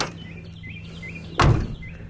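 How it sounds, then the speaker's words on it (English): A Chevrolet Nova SS car door, parked for over 40 years, shuts once with a single solid, close thud, over faint background bird chirps. "Hold on, listen to this door."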